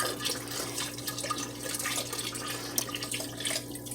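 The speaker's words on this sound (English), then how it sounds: "we are now adding our last 4th box of beef stock" A box of beef stock is poured into a pot of oxtails, giving a soft, continuous liquid splashing and trickling that is fairly quiet, with no talking.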